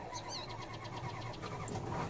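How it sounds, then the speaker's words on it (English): Engine of an old 1989 Ford farm truck in Farming Simulator 19 turning over and catching, a steady mid-pitched cranking and running rumble close up with a brief squeal, continuous throughout. "This thing usually fires up on the first crank."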